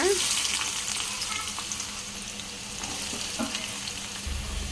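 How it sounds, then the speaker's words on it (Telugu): Chopped onion pieces dropped into hot oil in a new kadai for mutton curry, a steady bright sizzle and crackle filling the clip, close and continuous, with faint stirring scrapes in the background. "ఉల్లిపాయ ముక్కలు అయితే వేసేసుకుంటున్నా"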